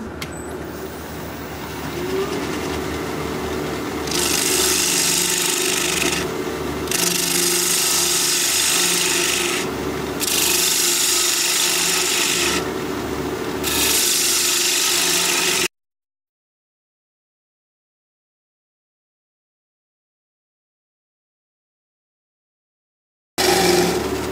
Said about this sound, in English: grab my 1/2 inch standard grind bowl gouge, and we'll get to hollowing out this bowl